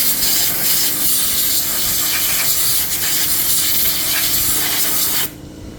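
Cleaner is sprayed onto a 1984 Suzuki LT250 ATV's OHV engine cover, giving a loud, continuous close-up hiss lasting several seconds before it cuts off abruptly.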